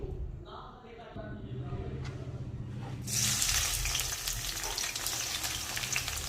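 Kasuri methi chicken chilli stir-fries with capsicum, onion, garlic and cashews, a steady close sizzle that swells louder as fresh ingredients hit the hot pan partway through, with occasional stirring scrapes.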